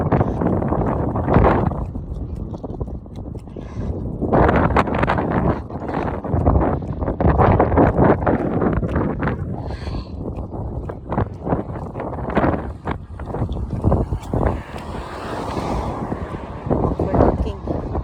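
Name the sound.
wind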